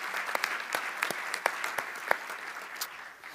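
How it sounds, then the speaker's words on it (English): Audience at a school district forum clapping in a round of applause, sharp individual claps standing out over a steady patter before it thins toward the end. "Can we give them a nice round of applause,"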